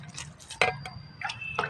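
Water is poured little by little onto plants in a small home garden, giving short, separate splashes and drips. The pours are close and fairly clear, with gaps between them.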